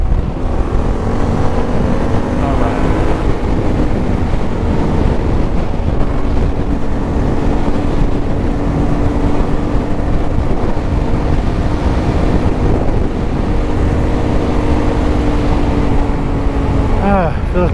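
A motorboat engine roars at full throttle, a loud steady drone buried in heavy wind rumble and rushing water, continuous and close.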